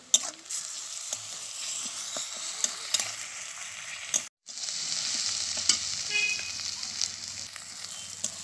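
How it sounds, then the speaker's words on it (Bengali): Garlic paste fries in hot oil, a steady bright sizzle with occasional stirring clicks and scrapes, broken by a brief gap near the middle before the crackle resumes, no voices. "রসুনটাকেও আমি একটু লাল লাল করে ভেজে নিয়েছি"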